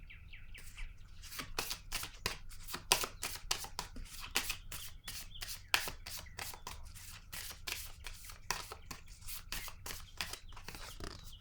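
Tarot cards being shuffled by hand, a steady run of crisp riffling flicks close up, repeating quickly with faint birdsong chirping behind.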